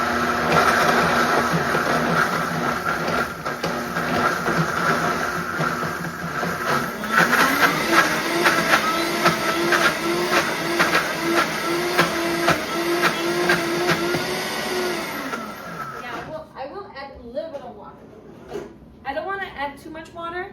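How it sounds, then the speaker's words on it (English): A blender whirring through sprouted chickpea hummus, running steadily loud for about fifteen seconds and shifting pitch partway as the thick mixture churns, then cutting off, with voices heard around it. "Okay, so I'm gonna blend this up."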